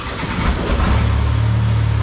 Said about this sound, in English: once you turn on the engine